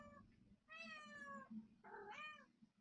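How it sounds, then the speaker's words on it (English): In a video game, a cat gives two clear meows about a second apart, fairly quiet and close, over a low background hum, with no talking. "do you have a cat?"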